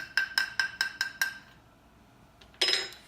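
Spoon stirring rosemary-infused oil in a glass jar: five quick, evenly spaced bright clinks against the glass, a short pause, then a louder scraping clatter, close and with no talking.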